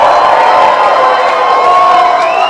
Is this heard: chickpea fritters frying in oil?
no